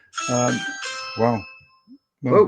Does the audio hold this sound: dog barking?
no